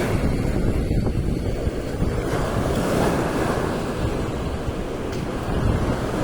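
Atlantic Ocean surf rolls continuously onto a wide beach, a broad steady roar with wind buffeting the microphone, loud and close, with no voices.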